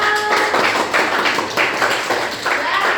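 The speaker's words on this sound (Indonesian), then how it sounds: "Tepuk tangan untuk nomor 2" A group at a classroom performance session claps for a team, a close, lively patter of hands with a few stronger accents, along with faint voices and a brief tone at the start.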